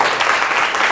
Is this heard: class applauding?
yes